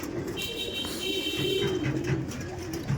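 Tournament-grade racing pigeons coo in low, rolling phrases close by, with a steady background hum and a faint high electronic tone partway through.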